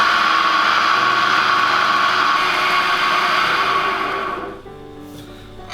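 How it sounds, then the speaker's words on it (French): A food processor blends almonds, mustard and flat parsley into a green butter, whirring in a steady high buzz that winds down and stops near the end, heard up close. "maintenant vous allez bien mélanger avec le robot"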